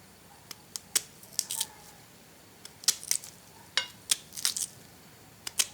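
Peeled hog plums (amra) for a sweet-sour pickle are cut into small pieces, giving sharp, irregular clicks and snips of the blade close up over a quiet background.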